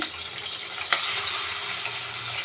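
Onions frying with curry leaves and ginger-garlic paste for an old-style pulao, a steady broadband sizzle with one sharp crackle near the start, no talk.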